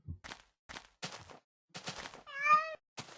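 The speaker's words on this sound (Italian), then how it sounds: "Un gattino." A cat meows in the Minecraft video game: a single clear, rising-and-falling meow sounds near the end, between short bursts of clicking and tapping game noises.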